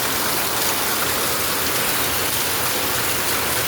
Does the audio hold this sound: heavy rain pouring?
yes